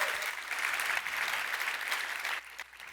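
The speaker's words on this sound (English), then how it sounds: "Give her a warm applause" Audience applause at a product presentation session greets a new presenter, a steady wash of many hands clapping that thins out near the end.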